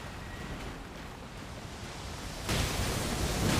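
Rushing waterfall in the Elden Ring video game: a steady broadband wash of falling water that swells louder partway through, with no voices over it.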